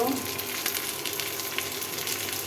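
Chopped potatoes frying with reddened onion in a pan, a steady close sizzle with faint scattered crackles and no voice.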